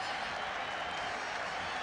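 Steady crowd applause fills a football stadium after Wales beat England in the 1984 British Home Championship, a dense continuous roar of clapping from start to finish.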